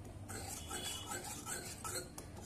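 Milk powder and crushed sugar candy are stirred into malai in a bowl, giving soft, faint scraping and clinking from a spoon in quick, continuous strokes.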